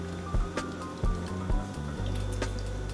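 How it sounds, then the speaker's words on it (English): A spoon stirring flour into lasagna sauce in a pot, giving repeated soft wet squishing strokes about twice a second, close and fairly quiet, ending in a steady low rumble. "So we're going to keep stirring it till we have no lumps in there."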